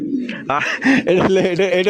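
Fancy jumbo-size pigeons coo up close at a farm, throaty rolling calls, with people talking over them.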